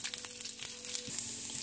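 Grated coconut frying in hot oil until brown, a steady soft sizzle with faint crackles and stirring, close and alone, no talk.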